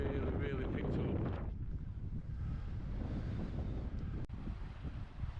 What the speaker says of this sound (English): that wind, as you can hear when I turn around, has really picked up